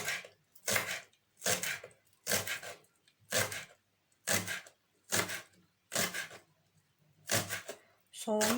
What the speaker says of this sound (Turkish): Şöyle de ince ince doğruyorum.